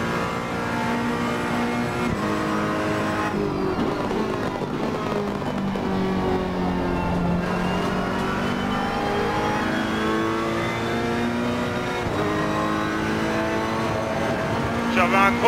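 A Ferrari 488 GT3 race car in the Assetto Corsa Competizione game laps Monza, its engine rising and falling through gears in loud, continuous revs with brief shifts, while someone talks over it.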